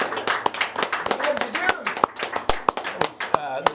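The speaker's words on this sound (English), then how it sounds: "Another round of applause." A small group claps during a live online guitar lesson, with sharp, scattered claps in an uneven rhythm, fairly close, and a voice talking over them throughout.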